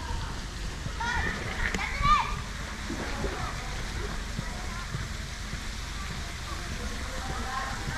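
Water splashes steadily in the Caribbean World wave pool, a broad continuous wash of noise with crowd chatter, while nearby voices talk over it.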